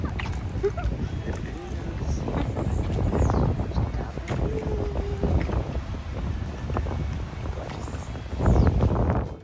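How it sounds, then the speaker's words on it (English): Wind buffets the microphone at a beach in Puerto Rico, with gusty rumbling surf and waves underneath and a stronger gust near the end. "So we are over at the beach"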